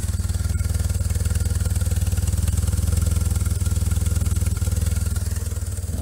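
A 1997 BMW R1100RT motorcycle with a custom exhaust idles nearby, a steady, loud, low-pitched pulsing throb with an even rhythm throughout and faint mechanical clatter.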